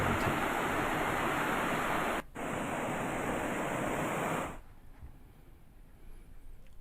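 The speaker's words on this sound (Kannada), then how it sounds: "ನೇತ್ರಾವತಿ ನದಿ ಮೈದುಂಬಿ ಹರಿತಾ" Floodwaters of the Netravati river rush loudly after continuous rain, a dense steady roar that breaks briefly, resumes, then drops to a quieter wash near the end.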